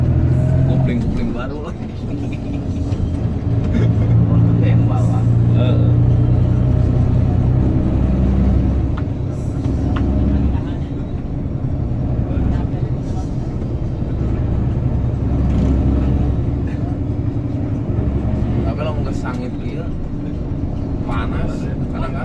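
Bus engine labouring up the steep Gentong hill climb, a loud continuous low drone heard from inside the coach with gear changes, under people talking throughout.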